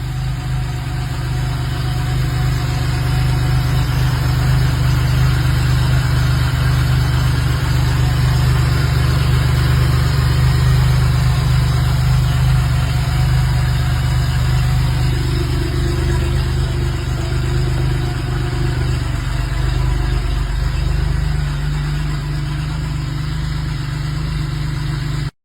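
A professionally built Ferrari replica kit car idles steadily and close by, a constant low, rumbling engine drone with no revving and no voices.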